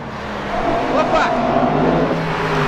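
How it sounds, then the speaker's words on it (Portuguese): A blue Porsche goes by on the road, its engine note swelling as it nears and then easing off, loud and close, with a voice speaking over it. "A Porsche azul!"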